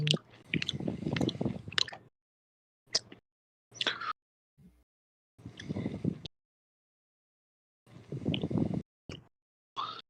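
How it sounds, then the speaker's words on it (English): A person chews food close to a microphone on an online call, giving wet, squishy bursts of mastication in several irregular clusters separated by silent gaps. "Who's chewing? It's making me fucking hungry."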